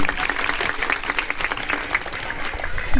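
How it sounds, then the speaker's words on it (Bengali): A school audience gives a teacher, the assistant headmaster, a round of loud applause, dense and sustained clapping from a crowd filling the whole moment, close and energetic. "জোরে করতালি দেই"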